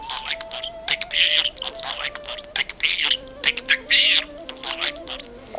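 A budgie chatters nearby in squeaky, word-like bursts with whistled tones, short phrases separated by brief pauses, mimicking human speech such as Islamic greetings and 'Tekbir'.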